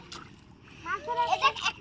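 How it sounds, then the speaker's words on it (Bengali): Children splash in water while catching fish during rice planting, with brief wet splatters under the high excited voices of children speaking close by. "পানি ছিটকাবা না, পানি ছিটকাবা না"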